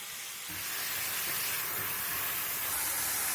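Garlic and tomatoes hit a hot frying pan, a steady, fairly loud hiss and sizzle that begins abruptly and carries on evenly without any talk.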